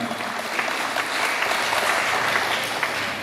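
Audience applause for the Tabanan artists at a gathering, a steady, fairly close burst of many hands clapping for a few seconds without talk.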